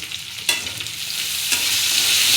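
Crushed garlic and potatoes sizzle in oil in a pan, the hiss building steadily while two distinct spoon scrapes cut through near the start and middle; no one speaks.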